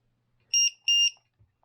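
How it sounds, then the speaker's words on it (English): A battery voltmeter voltage alarm gives two loud, piercing electronic beeps in quick succession, with silence before and after. "voltmeter / voltage alarms. So these beep really, really loud."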